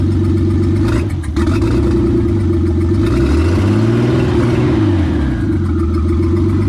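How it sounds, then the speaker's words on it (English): A Nissan Skyline six-cylinder engine with a noticeable chirp revs up loudly and close, rising and falling in pitch a few times over a steady idle, with no talking. "if I rev the engine"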